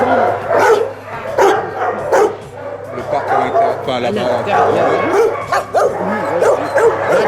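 Dogs at a refuge that houses timid and very old dogs bark and yip repeatedly through the whole stretch, mixed with a whimper, under steady close French conversation.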